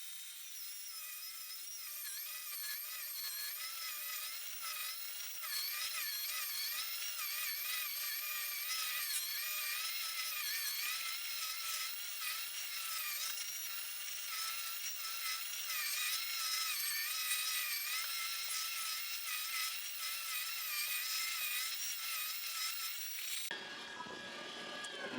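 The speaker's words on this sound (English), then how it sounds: "we will get ready to process it through the meat grinder." An electric meat grinder runs continuously through pork butt with a steady, high-pitched motor whine and faint grinding texture, carrying on unbroken for over twenty seconds before cutting off abruptly.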